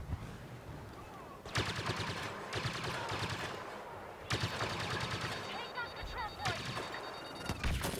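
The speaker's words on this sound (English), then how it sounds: "they're already fucking shooting at us" Heavy gunfire from blasters in the Star Wars Battlefront video game, rapid automatic bursts arriving in several loud waves with short gaps, dense and close, and faint voices speaking underneath.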